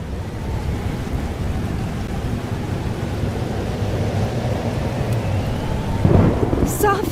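A thunderstorm in the Life Is Strange video game: steady heavy rain with a low rolling rumble of thunder building underneath, loud and continuous, with a brief sharper burst near the end.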